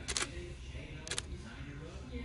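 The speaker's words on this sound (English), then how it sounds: "Try and take a picture. Does the shutter move?" Shutter clicks from a single-lens reflex camera, two brief mechanical snaps about a second apart, close up over steady background noise.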